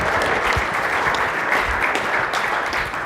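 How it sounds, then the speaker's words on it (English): Sustained applause from a conference audience at a sales event, dense steady clapping filling the room at an even loudness throughout. "Clap it up for them."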